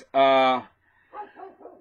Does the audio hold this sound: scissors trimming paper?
no